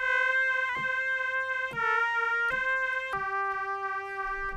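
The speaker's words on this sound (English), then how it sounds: "I could pretty well make some PPG type of sounds like this one." A Roland Jupiter-8 synthesizer plays PPG-style notes with a bright, buzzy, harmonically rich tone, changing pitch in stepped jumps, each new note starting with a short sharp attack.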